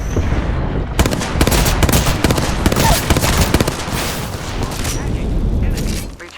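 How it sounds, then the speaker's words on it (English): Grenade explosions and heavy gunfire in the shooter game Apex Legends, with dense, loud, rapid cracks and booms running nearly continuously, with a voice speaking over the action. "Hit him with a sky nade."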